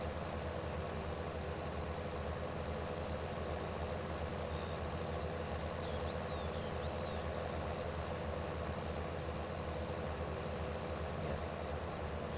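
A tractor idling in the video game Farming Simulator 19, a steady low engine rumble that carries on unchanged and fairly quiet throughout, with no voices.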